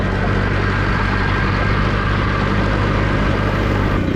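The second outboard motor on a C-Dory 24 TomCat boat idles close by, a loud, steady low engine drone with a constant hum and no other sounds.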